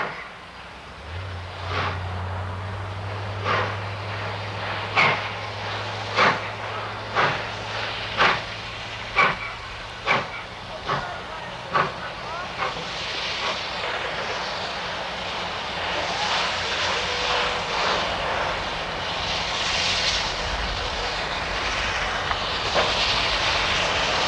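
Southern Railway 2716 steam locomotive on a 1982 photo run-by, with a series of sharp whistle-like or exhaust bursts in a regular rhythm over a low steady rumble, then a growing broad roar of the passing train.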